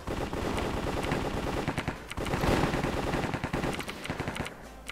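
Gunfire in a Counter-Strike style Minecraft match: dense, rapid automatic bursts of shots, loud and continuous with brief gaps, and no talking.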